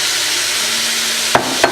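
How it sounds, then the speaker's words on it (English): Beet greens sauté with beets in a soup pot, a bright steady hiss of frying, then two quick knocks of a utensil against the pot near the end. "Saute the beet greens with the beets."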